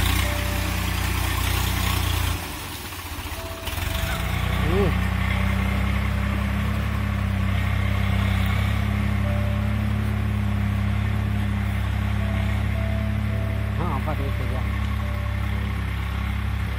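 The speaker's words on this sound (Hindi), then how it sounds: "ट्रैक्टर आ चुका है इन खेतों को चिखला करने के लिए।" A tractor engine runs steadily in a flooded field being prepared for peanut planting, a low continuous rumble held close throughout with a brief dip early on and occasional faint voices behind it.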